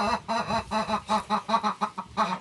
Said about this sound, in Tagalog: Ang ingay mo talaga manok.